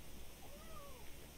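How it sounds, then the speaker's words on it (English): A cat meows faintly in the background, a single drawn-out rising and falling call under steady room noise. "if you guys hear meowing in the background"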